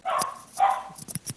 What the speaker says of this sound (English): On cue, Jonathan, my dog started barking as soon as we started.